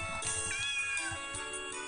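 A cat meows in the video game Gray Garden, with a few short, close mews over a steady background music bed and no talking.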